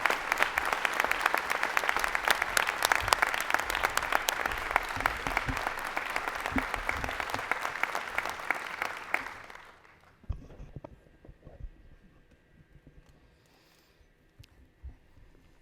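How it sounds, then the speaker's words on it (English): A large audience applauds at the investiture ceremony for University of Illinois Chancellor Marie Lynn Miranda, loud sustained clapping for about ten seconds that then quickly dies away into a quiet hall. "Please join me in applause for Chancellor Miranda's address"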